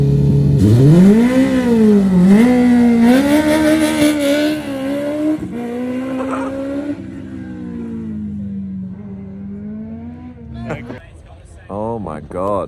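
An open-wheel car styled like a Formula One racer drives past loudly, its engine tone rising and shifting as it accelerates, with a voice talking over it and the roar fading toward the end.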